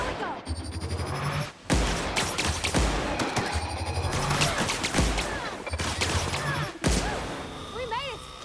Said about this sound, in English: Looks to me as if there's a robot over there that needs a shooting.